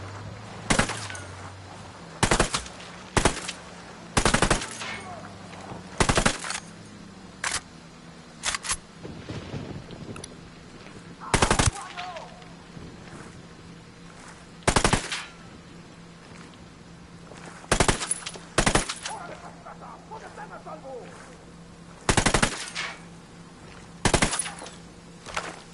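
Repeated bursts of machine gun fire in the Ghost Recon video game, short loud volleys spaced every second or two across the whole stretch, over a low steady game background hum.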